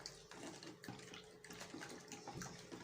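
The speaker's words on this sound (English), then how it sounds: "just add my water" Water pours steadily into garri in a container with a continuous splashing rush, close and fairly loud, with no talking.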